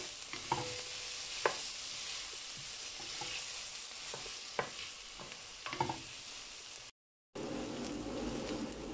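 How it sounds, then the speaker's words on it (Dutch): Onions and garlic frying in a pan, a steady close sizzle with occasional stirring clinks and scrapes, continuing on its own without talk apart from a brief dropout near the end. "Even goed bakken."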